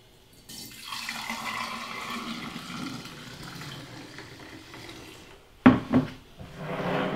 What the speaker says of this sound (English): I use a canning funnel in the top so we can just pour this right in.